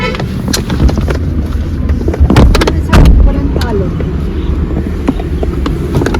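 A car drives along a road on a trip from Savarde to Vasai, with a loud low engine and road rumble and wind buffeting the microphone, along with a few sharp knocks and intermittent talk.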